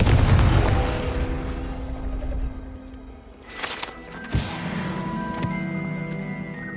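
A Confringo blasting spell explodes in the video game Hogwarts Legacy, a booming blast followed by rumbling debris and a sharp impact crack, loud and close against game ambience, no talking.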